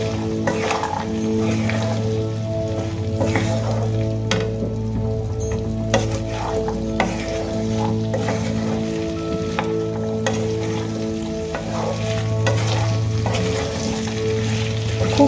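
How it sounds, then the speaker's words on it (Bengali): Fried potatoes and shelled peas sizzle steadily in a hot pan, loud and close, with occasional scraping stirs over the continuous frying hiss; no one speaks. "আলু খুব ভালো করে আমি ভেজে নিয়েছি। এবার এর মধ্যে দিয়ে দেব ছাড়িয়ে রাখা মটর।"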